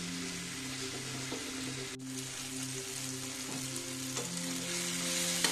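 Tomatoes frying slowly in a pan over a very low gas flame for a spicy chutney. A soft, continuous sizzle and crackle sounds close by over a faint low hum, with no talk.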